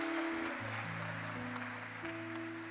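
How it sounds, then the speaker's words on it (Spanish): A congregation at a national church congress gives a steady round of applause for a presenter, the clapping soft and spread out over sustained musical tones. "Un fuerte aplauso para nuestro hermano Fernando Silva."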